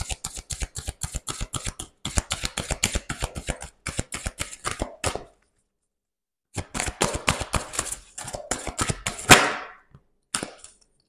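Oracle cards being shuffled by hand, close and crisp, with rapid bursts of sharp flicking snaps, a pause of silence in the middle, then more riffling ending in a rushing bridge-like cascade.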